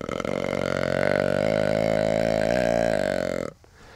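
A deer call imitating a buck's long, drawn-out breeding grunt, one sustained loud nasal tone lasting about three and a half seconds before cutting off.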